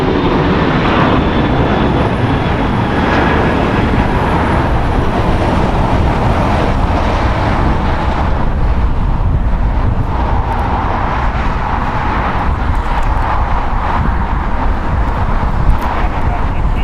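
An American Airlines jet departs LAX, its engines a loud, steady broadband roar that holds for the whole stretch, with faint radio chatter beneath it.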